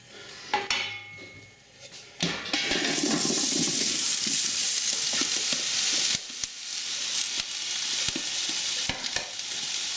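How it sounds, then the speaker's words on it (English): Onions and red peppers tipped into smoking-hot oil sizzle loudly and steadily, with a wooden spoon scraping and clattering against the pan as the vegetables are stirred; the frying hiss starts abruptly after a quieter moment and continues throughout. "tip in our onions and our peppers, give it a stir. Just use a wooden spoon"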